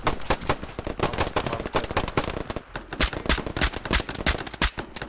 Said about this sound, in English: We're taking a bunch of shots from northwest.